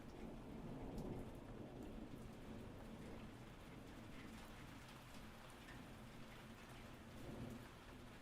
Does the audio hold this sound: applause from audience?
no